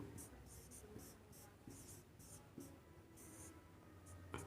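Pen or marker writing numbers by hand during a maths lesson on divisibility rules, a series of short scratchy strokes in bursts with pauses between, moderately close and fairly faint.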